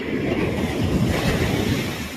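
Sea waves washing onto a beach in the early morning, a continuous loud rushing surf mixed with wind buffeting the microphone, with no voices.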